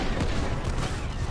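X-wing blaster fire in a VR Star Wars flight game against TIE fighters, a loud, dense, continuous barrage of rapid shots blurring into a roaring wall of noise.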